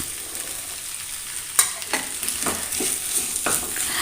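A spoon stirs masala with fresh coriander leaves in a pan, making soft scraping and gentle sizzling with several distinct stirring strokes over the last half, close by and without talk.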